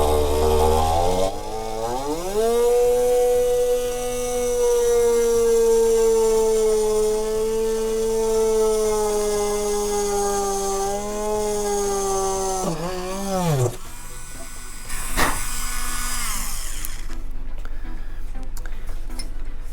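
A small high-speed rotary tool whines steadily for several seconds, its pitch dipping briefly as it drills into a part of a vintage Barnstormer 25S RC plane, then cutting off.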